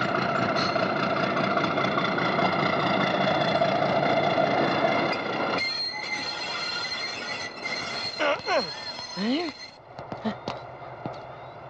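A train rumbles steadily at first, then the noise drops away, leaving wheel squeals and clanks amid quieter sounds.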